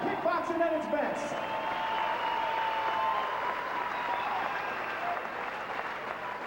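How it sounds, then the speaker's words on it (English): Crowd applauding two Muay Thai kickboxing fighters at an event in Las Vegas, a broad sustained wash of clapping with some cheering, while an announcer's amplified voice carries over it. "let's give both of these fighters a big round of applause"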